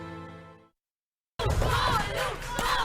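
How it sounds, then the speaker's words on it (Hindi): A cricket match crowd bursts into a loud, dense roar of cheering after a sustained tone fades out and a short silence falls. "तो सब गोलू के लिए क्यों चेयर कर रहे हैं?"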